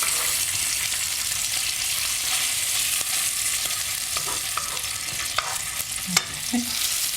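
Bacon crisps in a pan alongside Portavogie clams, a constant close hiss of frying with scattered pops and a few sharp spatula knocks near the end, and no one speaking.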